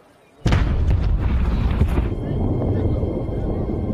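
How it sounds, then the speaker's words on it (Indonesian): A sudden loud blast bursts out after brief quiet, followed by a roaring, crackling rumble that lingers at high level. "terdengar suara ledakan hebat"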